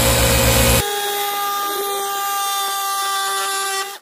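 A Bosch GST 185-LI cordless jigsaw runs at full speed cutting wood, giving a loud, steady, high-pitched motor whine with a rougher stretch at the start, then a sudden stop.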